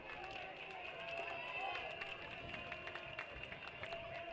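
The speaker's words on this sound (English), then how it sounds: "The Oilers dugout clapping rhythmically." A high school baseball dugout claps in a steady rhythm during a championship game, faint and distant beneath crowd noise.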